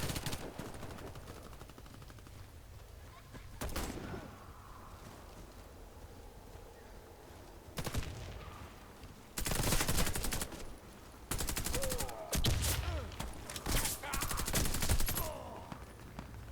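Bursts of gunfire from a small gun in the shooter game Warface, several separate rapid volleys with pauses between them, close and loud over a low ambient background.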